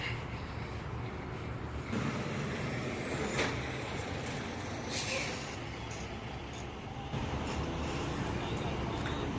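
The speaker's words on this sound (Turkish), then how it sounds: "Okul otobüsü gitti." Heavy vehicle rumble on a San Francisco street as a school bus pulls away, a steady low engine drone with hiss of air brakes and passing traffic, continuous and moderately close.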